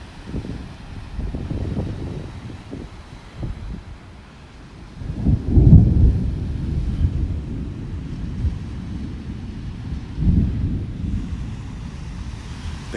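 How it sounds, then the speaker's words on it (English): Distant thunder rolls offshore over a beach in North Naples, Florida, on a wet morning. Low rumbles swell around the middle and again near the end, beneath constant wind buffeting and soft surf. "You can hear it takes a while to hear the thunder."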